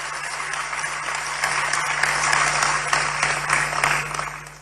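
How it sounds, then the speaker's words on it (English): Sustained applause from an audience for a national chairman at a live-broadcast program, a steady dense wash of clapping held at an even level throughout, with a low electrical hum underneath. "Let's give our national chairman another round of applause."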